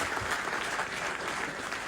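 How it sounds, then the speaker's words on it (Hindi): Steady audience applause at a nazm launch event at Hajj House, dense and continuous clapping from a crowd throughout, with no speech over it. "जोरदार तालियों से आप है तो अबरार भाई के लिए"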